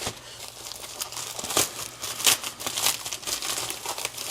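Cardboard and plastic packaging crinkle and tear as a box holding a full steering wheel wrap is opened up close. The rustling comes in uneven bursts, fairly quiet, with no voices.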